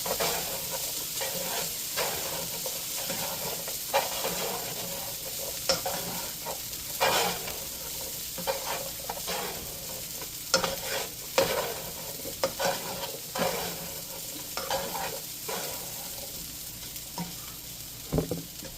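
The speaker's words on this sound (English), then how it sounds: "we're just keep stirring our hash browns like so" Hash browns frying and being stirred in a pan, with steady close sizzling throughout and repeated scraping strokes of the utensil across the pan surface.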